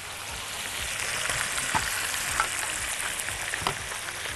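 Chicken pieces stir-fry in a pan with a continuous bright sizzle, broken by several soft scrapes and clicks as the pieces are turned.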